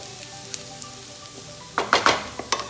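Garlic frying golden brown in a pan for a restaurant-style vegetable stir fry: a low, steady sizzle, then a few sharp stirring clatters toward the end.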